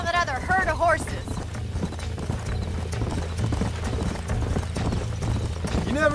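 Hooves clip-clop steadily from horses in the Western video game Red Dead Redemption, a horse whinnying near the start, with music and other game sounds layered underneath.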